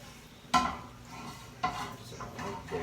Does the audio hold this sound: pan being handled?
yes